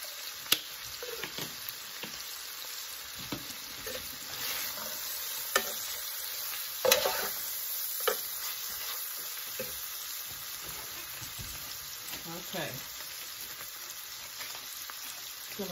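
Vegetables sprinkled with Italian seasoning and red pepper flakes sauté in a pan, a constant close sizzle broken by scraping spatula strokes and a few sharp knocks, no speech.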